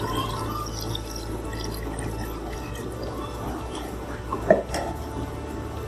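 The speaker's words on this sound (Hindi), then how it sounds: "अब इसमें शामिल करेंगे 8 गिलास के करीब पानी," About eight glasses of water are poured into a pot of spiced beef yakhni pulao, a steady continuous wash of water with a brief metallic clink near the end.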